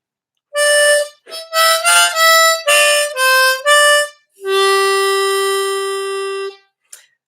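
A diatonic harmonica plays a phrase of Ode to Joy: seven short, distinct notes in an even rhythm, then one long held note, all clear and close with nothing else heard.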